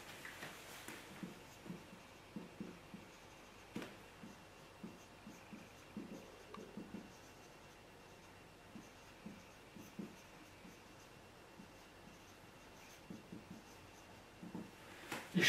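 Quiet pen strokes on paper as someone writes out a math induction problem by hand, soft scratchy bursts in an irregular rhythm over faint room hum, no talk.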